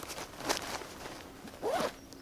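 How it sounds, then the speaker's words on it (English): The long back zipper on a Salomon ADV Skin 12 trail running vest is pulled, giving a couple of short, close zip strokes amid soft fabric handling. "And then on the back you have this long zipper."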